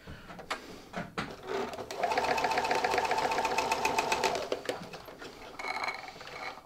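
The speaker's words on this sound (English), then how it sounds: "I'm just going to baste it on the sewing machine just to hold it in place" A sewing machine bastes a fleece hat, its needle running in a steady, fast rhythmic whir for a few seconds after some brief handling clicks, close and clear, then stopping.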